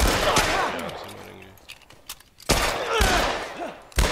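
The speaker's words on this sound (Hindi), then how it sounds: "हमने इतनी गोलियां चलाई किसी ने सुनी तो होंगी" Bursts of rapid gunfire from The Last of Us on PC crackle loudly, pausing briefly in the middle before another volley, with faint voices in the background.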